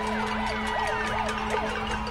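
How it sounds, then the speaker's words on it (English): An ambulance siren wailing up and down as it passes a highway protest in Puerto Rico, loud and continuous over a droning hum and crowd noise. "Right now an ambulance is actually coming by"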